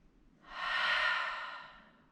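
A single long, slow exhale swells and fades, close and soft, a deep breath taken during a Vinyasa yoga session.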